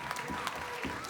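Audience at a live concert at The Stone Church clapping, a brief, moderately quiet patter of applause from a small crowd with a few distinct claps standing out.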